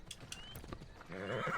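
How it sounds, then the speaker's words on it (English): A horse in the video game Assassin's Creed Odyssey, with a few clip-clop hoof beats followed by a loud, wavering neigh at the end. "Come on, horse."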